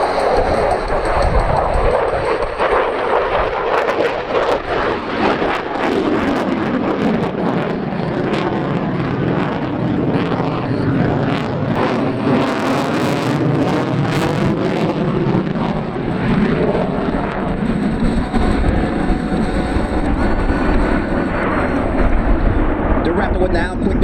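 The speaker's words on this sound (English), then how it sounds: "At altitude, the jet will flip backwards and level off." An F-22 Raptor jet flies an aerobatic display at the Avalon Airshow, its engines making a loud, sustained roar that swells and shifts as it maneuvers, while an announcer talks over it.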